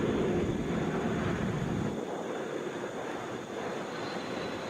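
A Southwest Boeing 737 airliner at Atlanta's international airport gives off a steady jet engine roar that eases slightly after two seconds, heard from a distance as a broad continuous rush with no talking.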